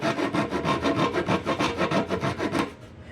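Hand saw cutting small pieces of wood to make sawdust, quick rhythmic rasping strokes close up, about a dozen back-and-forth pulls fading at the end.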